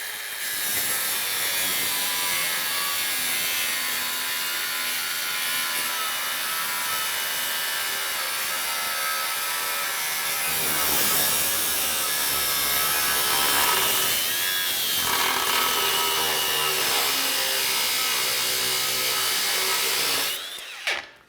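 A Makita 18V LXT brushless X-Lock cordless grinder grinds hard during a torture test, a loud, continuous, harsh abrasive roar that holds steady for about twenty seconds before cutting off.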